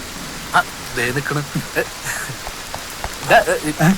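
Steady rain falls outside a home in a continuous soft hiss, with people talking over it.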